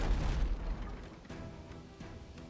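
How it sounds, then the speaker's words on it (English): A mortar firing in the naval game Abandon Ship: a deep, muffled boom at the start, followed by a couple of fainter distant thuds over a low rumbling background. "Our mortar is almost done firing also."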